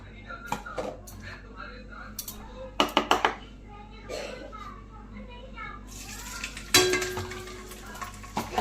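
Ginger tempered in hot oil during vegetable cooking gives a sudden close sizzle that keeps crackling, following scattered clinks of utensils while people, including a child, talk softly.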